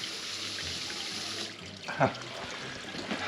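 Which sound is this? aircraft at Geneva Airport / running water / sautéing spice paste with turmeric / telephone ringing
running water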